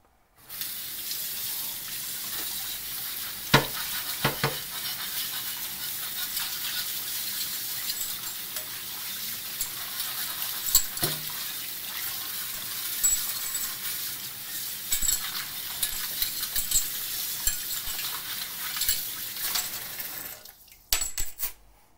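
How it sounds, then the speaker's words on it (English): A cast iron corn stick pan for cornbread is scrubbed with water, a continuous close rasping wash with occasional clinks of metal, running steadily for about twenty seconds. "let's quickly give this a little scrubbing"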